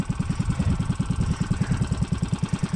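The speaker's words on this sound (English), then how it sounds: "Off-road mini bike." An off-road mini bike, an old Hilltopper ridden in the New Mexico mountains, runs with a steady, rapid, throbbing engine putter, close and continuous throughout.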